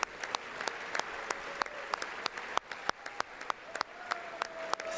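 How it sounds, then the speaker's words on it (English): Applause fills the chamber of Congress during Trump's address, a broad crowd clapping continuously, with sharp individual claps punctuating the sustained roar. "Stop clapping"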